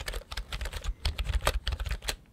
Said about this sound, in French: j'ai acheté ce clavier pensant que c'était un clavier mécanique en vide-grenier